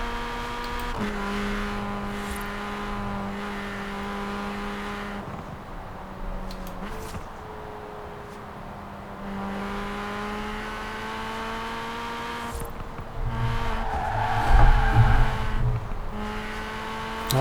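A Mini Cooper JCW Countryman ALL4 in the racing game Forza Horizon 4 drones steadily through long engine notes that shift pitch as it slides through drifts. Tire and effect noise swells near the end, with no talk.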